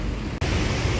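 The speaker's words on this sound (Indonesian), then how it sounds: "Hujan, ternyata hujan." Steady broadband rain hiss fills the scene outdoors while waiting for a bus unit, continuous and fairly close, with a brief dropout partway through and no speech.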